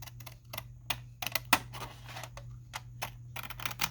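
Upcycled junk mail paper is cut close to the edge to form a window pocket, giving a quiet series of short, crisp snips and clicks at an uneven pace, heard alone.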